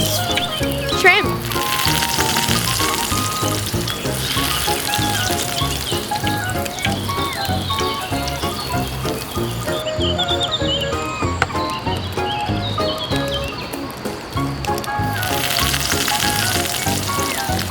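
Shrimp with butter grilling on a hot rock in a miniature cooking setup, a continuous loud sizzle with crackles running the whole time, accompanied by background music.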